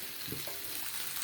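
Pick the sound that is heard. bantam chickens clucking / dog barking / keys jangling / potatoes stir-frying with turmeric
potatoes stir-frying with turmeric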